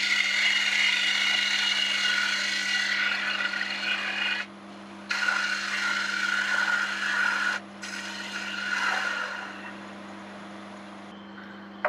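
A wood lathe hollows out a bowl for a textured, coloured wall plaque, giving a steady close scraping rasp from the cutting tool with a constant motor hum beneath, broken by two short pauses and easing near the end.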